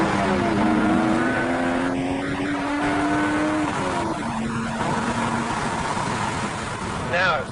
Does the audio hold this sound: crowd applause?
no